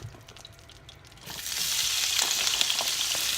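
Butter and olive oil sizzle in a pan over medium heat, a steady bright frying hiss that swells up after a quieter start and holds close and even.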